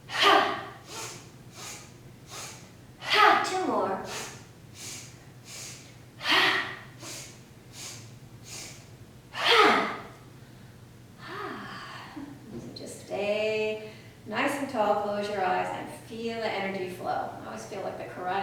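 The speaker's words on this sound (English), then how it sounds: "Super energizing breath of joy, gets the blood flowing so that we can move into our other movements." Forceful rhythmic breaths from a breath of joy breathing exercise, a series of sharp loud exhales in quick bursts, followed by a voice talking.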